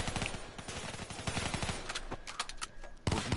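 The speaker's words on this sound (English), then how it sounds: "Stop shooting." Gunfire in the video game Black Ops 3, a rapid, steady rattle of automatic shots that keeps on, then thins into scattered single cracks before a louder burst at the end.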